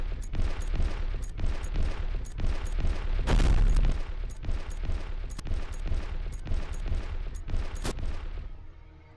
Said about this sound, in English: So I've just got some Vulcan mega cannons lighting me up.